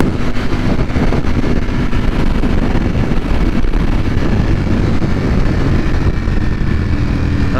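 A 2020 Ducati Panigale V4 R being ridden, its engine a loud, constant drone up close, mixed with heavy wind buffeting on the microphone and no talk.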